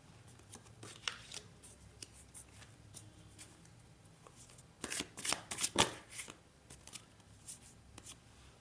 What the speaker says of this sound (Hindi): बट अभी के लिए मैं जस्ट शफलिंग कर रही हूँ।